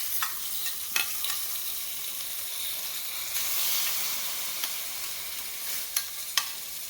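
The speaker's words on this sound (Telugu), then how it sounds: "ఇప్పుడు ఈ వేయించుకున్న తాలింపుని ఇందులో వేసేస్తున్నాం" Hot fried tempering of curry leaves and dried red chilli poured into an eggplant curry, giving a soft steady sizzle with a few sharp crackles and pops, moderately quiet and close with no talk.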